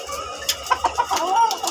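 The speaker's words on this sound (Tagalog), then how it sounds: "Manok po oh." White Kelso gamefowl cluck close by in short, bright bursts, several quick calls in a row over a low background rumble.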